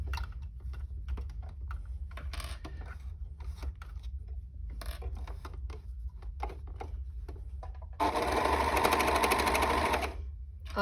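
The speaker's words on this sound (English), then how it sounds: "Now we're going to overlock that" An overlocker stitching jumper fabric, whirring in quick rattling bursts separated by short pauses, then a longer, louder continuous run near the end, close and alone.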